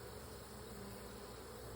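Honeybees crowd a heavy frame pulled during a backyard hive inspection, their close, steady buzzing forming a dense, quiet drone with no pauses.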